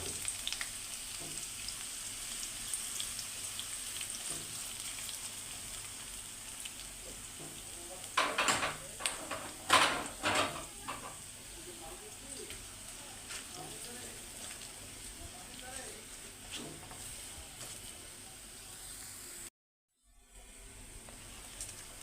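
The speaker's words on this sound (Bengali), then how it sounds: "পেঁয়াজটা ভাজা হয়ে গেছে।" Chopped onions frying in a pan with bay leaves and dried chillies for beef curry, a steady loud sizzle with bursts of stirring and utensil scrapes midway, then a brief dropout.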